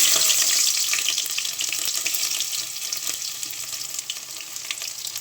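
Onions tossed into hot oil, a loud bright sizzling hiss that starts strongest and slowly eases into a steady crackling fry, close by, with no talk.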